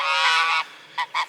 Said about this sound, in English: we've got some noisy geese